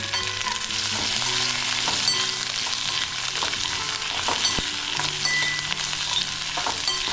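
Two medium sliced onions frying in a pan give a steady crackling sizzle, with occasional scrapes and knocks of stirring, close and even throughout.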